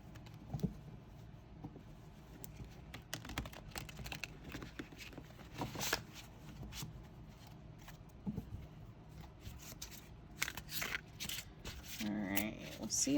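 Quiet, close riffling and soft slaps of a Wildwood Tarot deck being shuffled in irregular bursts, with faint rustling between them.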